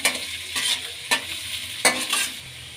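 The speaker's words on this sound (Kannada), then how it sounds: "ಶುಂಠಿ ಹಾಕ್ಕೊಳ್ಳೋಣ ಬೆಳ್ಳುಳ್ಳಿ ಹಸಿಮೆಣಸಿನ್ಕಾಯಿ ಇದನ್ನ ಫ್ರೈ ಮಾಡ್ಕೊಳ್ಳೋಣ" Ginger, garlic and green chilies fry in hot oil in a pan, a close bright sizzle punctuated by four or five distinct spatula scrapes and stirs.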